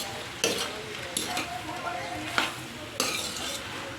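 Butter-fried shrimp sizzling steadily in a pan while a utensil stirs them, with several sharp scraping strokes against the metal standing out over the continuous crackle; no talking.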